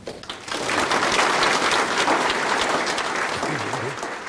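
An audience applauds to welcome veteran actor Lee Soon-jae as a guest speaker at a lecture event: steady, dense clapping that rises quickly after a brief pause, holds strong and even for several seconds, then starts to thin near the end.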